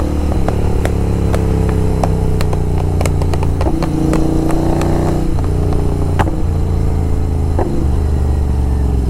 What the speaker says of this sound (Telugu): ఫుల్ థ్రాటిల్ ఇచ్చిన నేను.